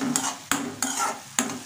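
Chopped onion and green chillies frying in a pan are stirred in four quick scraping strokes over a continuous sizzle, close and fairly loud.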